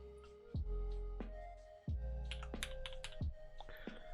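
Typing a discount code on a computer keyboard, a few sharp, distinct key clacks spaced irregularly, close and fairly quiet.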